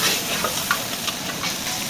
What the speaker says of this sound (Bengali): ভাজা মাছের মাথাগুলো দিয়ে দিচ্ছি